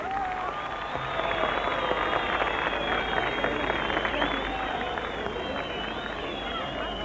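Concert audience at an outdoor folk concert in Şereflikoçhisar applauding as a singer is called to the stage, steady dense clapping and crowd noise holding at a moderate level throughout.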